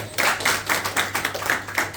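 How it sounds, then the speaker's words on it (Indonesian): A church congregation claps hands in a steady rhythm, roughly four claps per second, mid-distance and moderately loud with no talking. "Tepuk tangan dong buat Tuhan."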